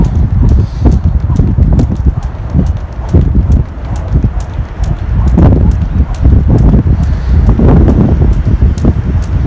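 A jump rope skipped outdoors for double unders on a breezy day: a fast, even ticking of the rope slapping the ground runs throughout over a low, buffeting wind rumble.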